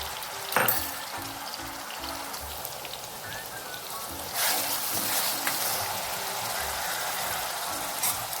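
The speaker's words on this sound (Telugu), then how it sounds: "ఆయిల్ వేసుకొని ఆనియన్ పేస్ట్ వేసేద్దాం" Onion paste frying in hot oil for a boneless konam fish curry, a steady crackling sizzle throughout, growing denser and louder midway, with no talk.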